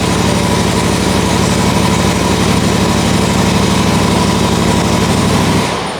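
The engine of a Country Clipper zero-turn mower runs steadily at close range with a loud, even drone, then begins to wind down in the final moment.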